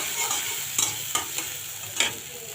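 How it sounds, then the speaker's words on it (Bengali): Chopped garlic frying in hot oil while cooking leafy greens, a continuous hiss with a few distinct scraping stirs of a spatula in the pan, close and alone without speech. "এখন রসুন কুচিগুলো একটু ভেজে নিব।"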